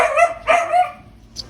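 A dog gives three quick barks close by, then a short pause and a faint yip.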